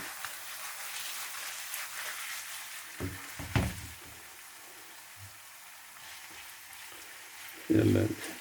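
Onions tossed into a hot pan for a Spanish omelette give off a steady, light sizzle, broken by a couple of utensil knocks and a louder clatter near the end.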